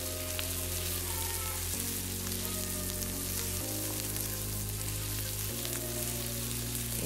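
Food frying in a pan as it browns lightly on both sides, a steady close sizzle with crackling bursts that runs unbroken throughout, with no talking.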